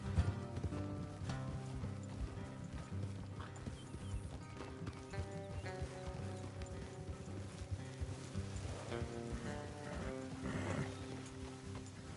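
Steady clip-clop of trotting horse hooves with a horse's whinny, set against a continuous musical background, in the video game Red Dead Redemption 2.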